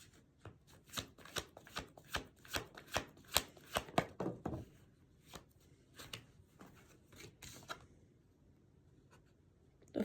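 A deck of tarot cards is shuffled by hand in a quiet room, giving a run of quick, crisp riffling and tapping bursts that come close and clear, then slow and thin out toward the end.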